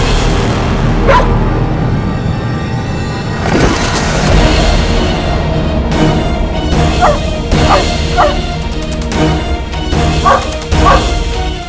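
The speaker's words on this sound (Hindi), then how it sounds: "ये कुत्ता इतना भौंक क्यों रहा है?" A dog barks and yips repeatedly from a middle distance in a dramatic outdoor scene, with short bursts spread across the clip over a steady rumbling background.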